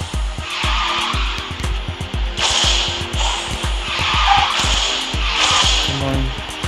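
A game car in Garena Speed Drifters drifts through a race. A rhythmic engine buzz pulses under repeated loud, sustained tire squeals that rise and fall several times.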